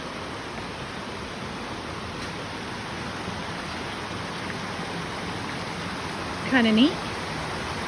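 Steady broadband rush of a gorge stream with waterfalls along a hiking trail, constant and close, with a brief voice speaking near the end.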